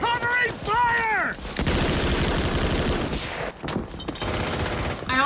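Covering gunfire from the war film Saving Private Ryan erupts in a loud, sustained rattle of machine guns and rifles, with people talking briefly at the start and again near the end.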